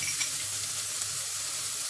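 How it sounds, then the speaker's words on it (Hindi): Onion dropped into hot oil with sizzling cumin seeds gives a continuous bright, close sizzle that holds evenly throughout the short stretch. "जीरा तड़क गया है तो इसमें मैं एक प्याज ऐड कर रही हूँ"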